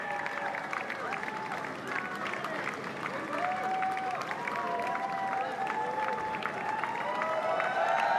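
A crowd greeting the Prime Minister claps and cheers at a moderate distance, a continuous wash of applause with scattered shouts, while a voice speaks over it.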